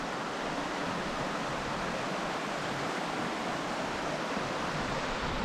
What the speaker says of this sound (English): a formation of rocks where water passes through and down